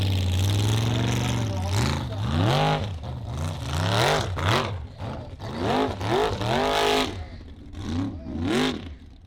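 A modified off-road special-class car at a Hafnarfjörður motorsport event revs its engine hard, loud rising and falling bursts with a rough clattering edge, while a voice talks over the noise.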